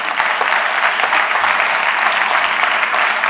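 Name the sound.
church congregation applauding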